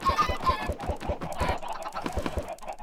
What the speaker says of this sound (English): well, they're chickens